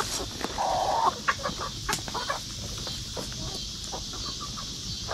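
An Ayam Cemani hen on a farm gives a few short clucks and a brief squawk near the start, then quieter scattered clucking and farmyard rustle, with other birds faintly in the background.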